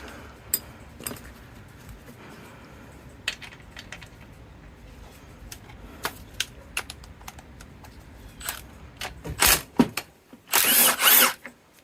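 Power tool removing bolts from a 1999 Honda Civic Si engine, with scattered clicks and clinks of tools, then a few loud close bursts of whirring near the end.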